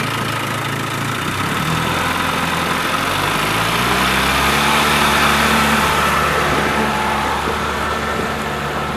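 A 1957 Fastwin 18 horsepower outboard motor, freshly rebuilt and running rich on a 16:1 fuel mix, runs steadily on Elk Lake with a continuous droning engine note and broadband wash, close and loud throughout.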